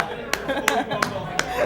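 At an open mic night a single person claps four times in slow, deliberate beats, sharp and close, over a low murmur of room sound.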